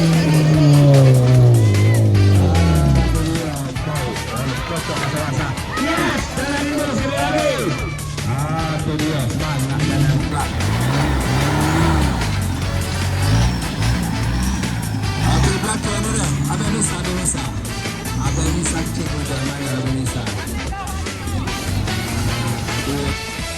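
Mitsubishi Pajero 4x4 engine braking on an off-road course, a steady low engine drone with harmonic whine that drops in pitch early on, then holds fairly loud and constant, with people talking over it.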